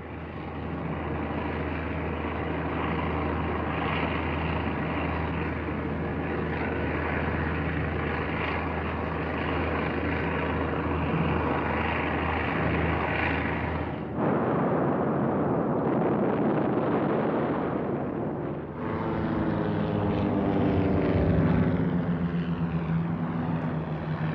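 Propeller engines of Messerschmitt Bf-110 fighters on a strafing run drone loudly and steadily for a long stretch. The tone shifts abruptly partway through as the roar changes pitch, with a rumbling, explosive character under it.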